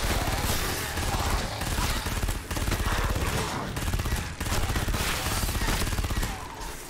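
An odd weapon in the video game Shadow Warrior 2 fires in rapid bursts of dense, crackling shots, like a machine gun, with a few short gaps between volleys, loud and alone.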